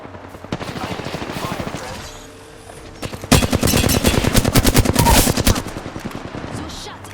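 Rapid automatic gunfire from another squad in a video game: dense, loud bursts of shots rattle continuously through the second half, after a quieter stretch with a voice and distant shooting.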